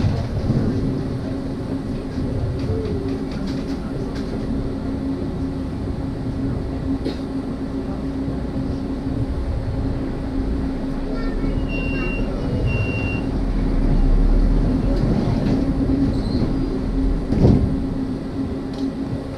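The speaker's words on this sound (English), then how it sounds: "So this is the number 14 tram." A steady low rumble of a number 14 tram rolling along in Leipzig, with a continuous hum, faint squeals and occasional clanks, building slightly louder toward the end.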